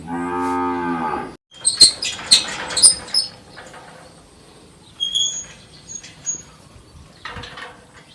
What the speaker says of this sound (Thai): นี่ก็คือวัวของเรา